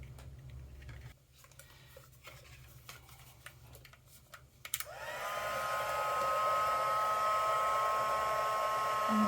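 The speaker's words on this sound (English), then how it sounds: "this is a powder that as it heats up, it will melt and turns more clear" A heat embossing tool blows a steady, loud whooshing hum close by as it melts embossing powder on a card; soft handling ticks and taps come first, then the tool switches on and runs alone.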